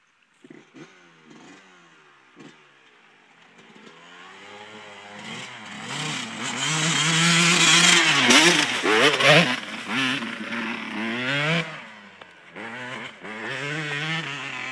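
Two-stroke dirt bikes, a CR 250 and a YZ 125 at a hillclimb, sputter to life after a few tries, then rev hard and rise to a loud, buzzing wail before easing off and climbing again.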